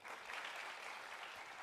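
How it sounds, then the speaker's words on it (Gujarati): A live audience claps together in a brief burst of steady, dense applause at an event in Gujarat. "આપણી ગુજરાતની તમામ બહેનો માટે જોરદાર તાળી થઈ જાય"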